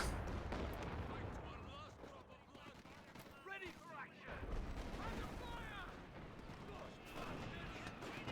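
Creeping artillery barrage in a video game: repeated booming shell impacts and scattered gunfire roll on in a loud, steady bombardment, with commentators talking over the blasts.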